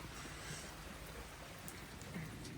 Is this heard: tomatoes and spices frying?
no